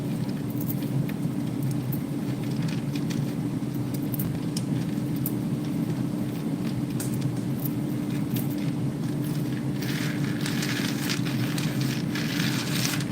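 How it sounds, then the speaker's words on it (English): A constant whirring air fryer fan hum runs steadily throughout while peanuts cook, with faint crackling and rustling on top and no talking. "Pardon the noise from my air fryer."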